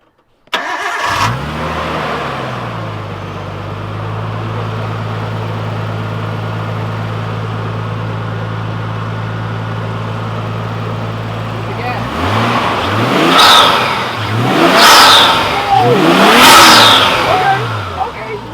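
A Nissan Skyline R32 engine cranks and catches on its first startup after an upgrade, settles into a steady idle, then revs sharply three times near the end.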